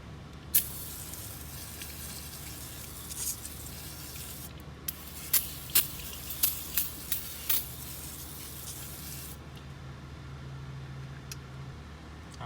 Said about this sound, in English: I'll just spray some brake cleaner all around there.